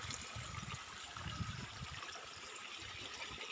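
Irrigation water flowing freely into the beds of a field of Guinea grass fodder, a faint, steady trickling and gurgling with no voices.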